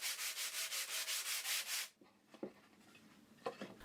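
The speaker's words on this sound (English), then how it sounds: "I do some final sanding before putting everything together." Rhythmic back-and-forth sanding on reclaimed hardwood planter pieces, about a dozen even strokes that stop abruptly, followed by a few light wooden knocks and handling sounds.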